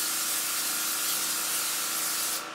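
Nonstick cooking spray hisses steadily into a pot on the stove for a couple of seconds, a close, even aerosol spray that cuts off abruptly at the end.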